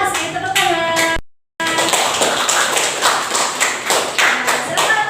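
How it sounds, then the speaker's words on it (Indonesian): Pupils in an Indonesian fiqh classroom give a round of hand claps. A brief voice is heard first, then a short silence, then a burst of sharp, uneven clapping that continues to the end. "Tepuk tangan"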